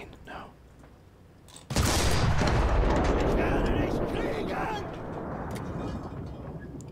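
A 105 mm HE tank cannon fires in the video game Enlisted, a sudden loud blast followed by a long rumbling roar that slowly fades over several seconds.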